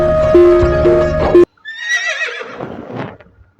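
A horse neighs loudly in a long, wavering whinny in a truck-driving simulator game, after a sudden cut from a busy background, fading out at the end.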